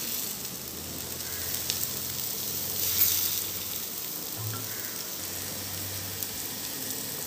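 Rava dosa batter poured onto a hot hotel-style griddle, giving a soft continuous sizzle and hiss, fairly quiet and even, with a brief louder crackle midway.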